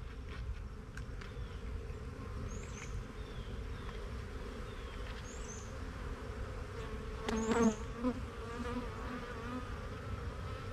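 Honeybees buzz steadily in an open, queenright hive with young larvae, a dense continuous drone close by, with a few individual bees whining past and a brief louder burst near the middle.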